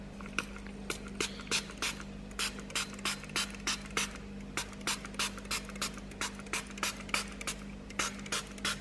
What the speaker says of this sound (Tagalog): So nilagay ko yung vinegar ko dito guys sa spray bottle.